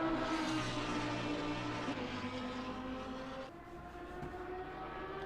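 Iron Lynx Lamborghini race car at Monza in a racing game, its engine droning steadily at high revs with a slight drop in pitch midway, continuous and fairly close, no voices.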